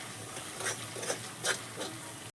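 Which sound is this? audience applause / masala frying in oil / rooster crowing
masala frying in oil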